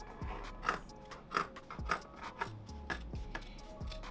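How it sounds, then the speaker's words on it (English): Scissors chomp through the denim of a jeans leg in a steady series of close, crunchy snips, roughly two per second, with no talking. "I'm just going to cut the leg off under the crotch"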